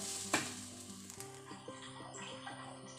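Oil sizzles steadily in a pan while fenugreek dosa batter fries, with a sharp crackle near the start followed by continuous frying hiss and faint stirring scrapes.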